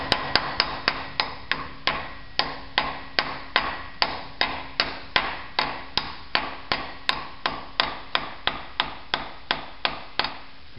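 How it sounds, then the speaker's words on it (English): Steady, evenly spaced hammer taps, about two per second, drive a new pilot bearing into place during a Toyota pickup clutch job, using a 24mm socket on the outer race; sharp metallic strikes close up, no speech. "So you get your new bearing, and just tap it in."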